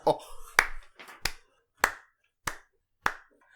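One person at a tabletop Dungeons & Dragons session claps slowly, six or seven sharp, separate claps spaced about half a second apart, close and loud, with a little voice at the start.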